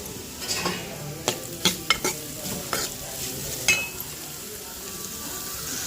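Beetroot pieces frying in a pan with salt and turmeric, a steady sizzle broken by several sharp scraping stirs of a spatula against the pan, close up and without talk.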